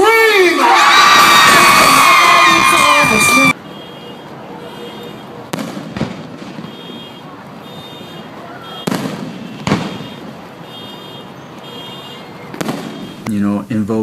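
A concert crowd at a show screams and cheers loudly, then the roar drops away to faint crowd murmur broken by a few sharp bursts of shouting.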